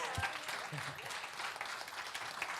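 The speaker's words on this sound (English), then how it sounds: "can we give Warren another round of applause?" A church congregation at a Sunday celebration service applauds for Warren, a steady wash of clapping that holds for the whole stretch, with voices mixed in.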